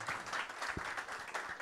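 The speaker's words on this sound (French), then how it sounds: "Sous vos applaudissements," Audience applause at a festival homage event, dense clapping held at a fairly low level, with a few sharper individual claps standing out.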